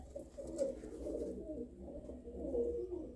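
Racing pigeons coo in a soft, continuous low murmur of overlapping calls, close by and steady throughout, with no one talking.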